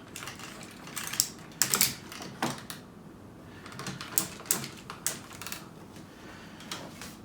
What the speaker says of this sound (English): And he's got ratcheting claws here